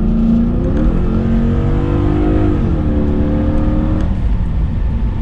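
Lexus GS400 V8 with a Borla ProXS exhaust muffler, heard from inside as the engine pulls hard, a loud droning exhaust note rising in pitch, easing, then climbing again through the gears.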